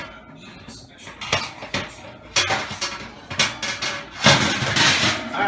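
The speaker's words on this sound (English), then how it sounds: "I got to change the grates here" Metal oven grates being changed in a home oven clank and rattle in a run of sharp, irregular metallic knocks, growing busier and louder toward the end.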